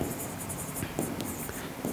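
A pen writes on paper while a physics problem about household fuses and bulbs is worked out, producing a close series of short scratchy strokes and taps in an uneven rhythm, with no talk over it.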